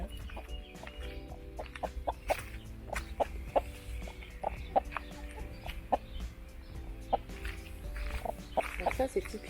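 A hen clucks in short repeated bursts, close by, with rustling and a low background hum; a person speaks quietly at times.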